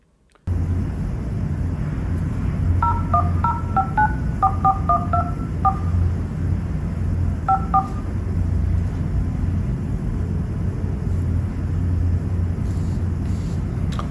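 A Xiaomi Poco F6 smartphone dials out, producing a burst of electronic keypad tones in quick clusters, then a brief second pair, over a steady low hum and background noise with no talking.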